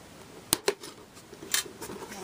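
Tape peeling off the packaging of a Transformers Generations Voyager Class toy, heard as two sharp tearing rips, a pause, then a softer crinkling pull, close and fairly quiet.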